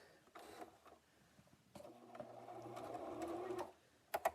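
A sewing machine stitches a bag seam, running steadily for about two seconds after a few short bursts, then stopping with a couple of sharp clicks; close and clear, with no talking.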